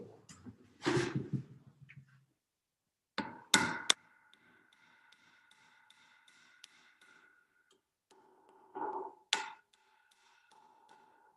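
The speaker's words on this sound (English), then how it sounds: "Using the hammer, you have to gently" A hammer taps wooden plugs into a shiitake mushroom log, giving a few sharp, close knocks in separate clusters with quiet gaps between them.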